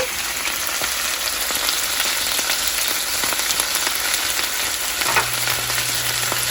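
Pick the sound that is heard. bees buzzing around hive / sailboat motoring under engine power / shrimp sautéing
shrimp sautéing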